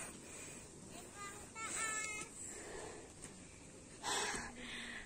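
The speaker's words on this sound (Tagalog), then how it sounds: "Rinig na rinig yung hingal lang." Heavy, gasping breaths from a hiker who has just climbed uphill on a mountain trail in Pangasinan, with two loud rushes of exhaled air standing out against a steady outdoor background.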